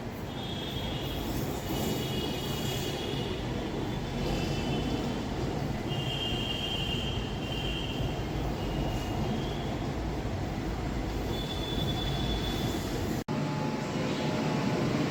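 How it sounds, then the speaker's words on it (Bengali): A Kolkata Green Line metro train pulls into Sector V station with a loud, steady rumble and roar of wheels on rail. Thin high squeals rise and fade along the way, and there is no speech. "ট্রেন এসে গেছে।"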